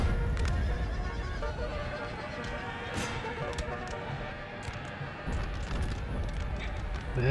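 Cavalry horses in the Napoleon Total War video game whinny and gallop amid a busy battle soundscape, with hoofbeats and neighs mixed into continuous clatter and din.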